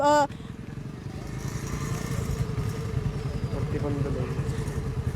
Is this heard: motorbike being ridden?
yes